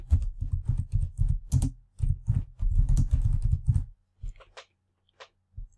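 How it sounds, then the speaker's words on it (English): Rapid, close-up clicking of keys on a computer keyboard in bursts, then a few scattered taps before it trails off. "you just click on the shape and you can start typing"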